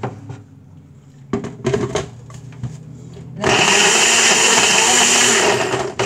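Ninja blender blending frozen bananas: a few clunks and knocks while the jar is set in place, then the motor kicks in with a loud, steady high-pitched whirring roar that lasts to the end.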